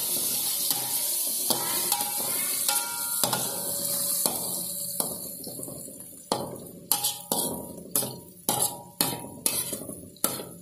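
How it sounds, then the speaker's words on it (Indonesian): A metal utensil stirs spices frying in a pan for Mie Aceh with tongkol fish. Repeated sharp clinks and scrapes against the pan ring over a steady sizzle, growing crisper and more regular toward the end. "Aduk-aduk ya."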